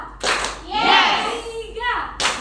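Schoolchildren in a fourth-grade classroom clap in a brief patterned rhythm, a couple of sharp hand claps framing an adult woman's spoken call.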